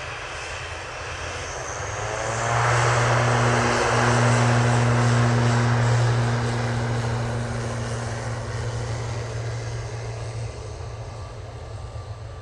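An airliner passes at Manchester Airport, its engines swelling into a loud, steady roar with a low droning hum that slowly fades, and no talk over it.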